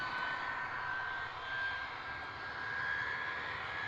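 A fixed-wing aircraft engine drones steadily at a distance as the plane takes off, a continuous hum with a faint whine.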